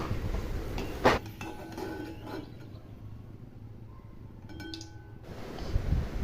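Cooked potatoes are shifted from the pan onto a plate while preparing masala vangi: one bright clink of utensil on dish, then faint scraping and soft knocks in a quiet kitchen.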